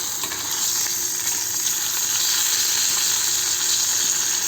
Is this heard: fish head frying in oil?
yes